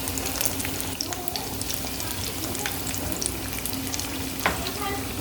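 Spring rolls and samosas fry together in hot oil with a dense, even bubbling sizzle, close and continuous, plus a few light clicks of stirring.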